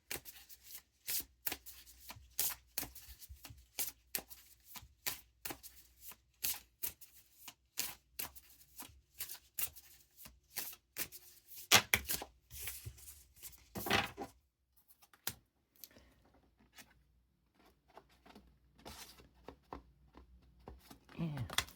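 Affirmation cards shuffled by hand during a horoscope card reading, a long stretch of quick crisp card riffles and flicks close up, pausing partway and turning to lighter handling and soft rustling near the end.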